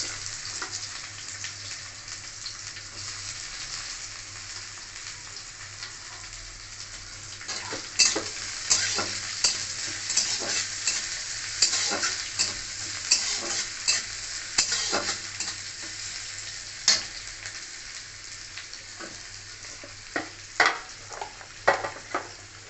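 Chopped onion frying in a pan makes a steady sizzle, broken by repeated sharp scrapes and taps of stirring that grow busier partway through.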